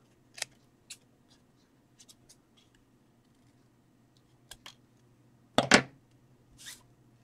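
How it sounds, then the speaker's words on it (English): Scissors snip through paper while trimming a small glued paper craft box, a handful of short, crisp cuts scattered across the clip, with a quick cluster near the end, close and fairly quiet with no talking. "then simply trim it off"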